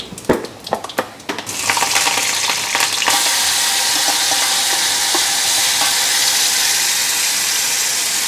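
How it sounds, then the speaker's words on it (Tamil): Mustard seeds and urad dal crackle and sizzle in hot oil for tempering, a few sharp pops at first giving way to a loud, steady frying hiss. "கடுகு கொஞ்சம் உளுத்தம்பருப்பு தாளிச்சுன்னு இருக்கேன்."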